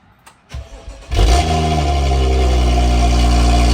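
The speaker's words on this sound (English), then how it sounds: "now we're just gonna start it up and check for any leaks" A BMW 535i fitted with F10 M5 mufflers cranks after a few quiet clicks, then fires into a loud, steady cold-start idle with a deep exhaust drone, close by and with no talk.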